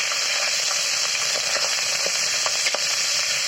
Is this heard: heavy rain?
no